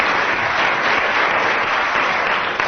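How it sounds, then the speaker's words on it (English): A studio audience at a festive comedy panel show breaks into dense, sustained applause, a continuous even wash of clapping with no break. "Tim and Willie, aided by approximately 10 minutes of applause from the audience"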